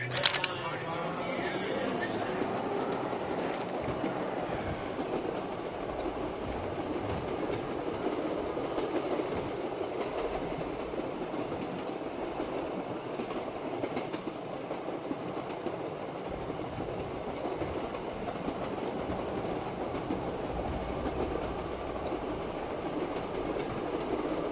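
A train runs steadily on its rails, with a continuous rumble and rattle of the carriages throughout, heard from on board, with faint chatter in the background.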